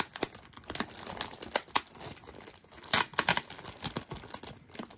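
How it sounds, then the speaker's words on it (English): A plastic zipper bag of jewelry crinkles and rustles steadily as it is cut open, giving a close, continuous crackle with brief louder crumples and no speech. "Then if I have to cut the whole bag open at the top, I'll do that."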